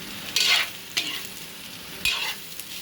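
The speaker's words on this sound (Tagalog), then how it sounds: "ilagay na natin mga mare yung ating nilagang baka" Tender boiled beef is tipped into a pot of sinigang, a sour Filipino soup, giving three short bursts of clatter and sizzling splash over a quiet kitchen background.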